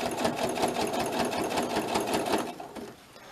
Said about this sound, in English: I'm just using the needle that came with the sewing machine.